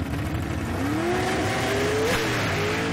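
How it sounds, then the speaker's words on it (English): A gasser drag racing car at a Southeast Gassers event in Clay City, Kentucky, doing a smoky burnout: loud, steady engine roar with rising tire squeal over a few seconds, close and continuous. "you see that smoky burnout"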